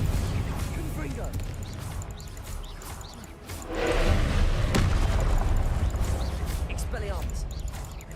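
A Confringo fire spell blast in Hogwarts Legacy, a deep booming burst near the middle that rumbles on beneath a spoken voice and game sounds.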